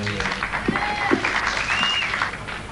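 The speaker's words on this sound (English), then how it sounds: "The crowd loving this here in Salford." Darts crowd in Salford applauding steadily at a 1996 World Team Championship match, a dense continuous patter of clapping with brief whistles rising over it.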